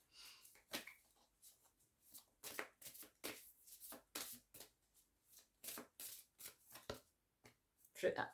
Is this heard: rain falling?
no